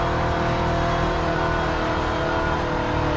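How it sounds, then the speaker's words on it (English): A car engine in the DayZ video game drones loudly and continuously, a dense steady roar filling the whole stretch with no pauses. "Or you can barely hear the music over the car."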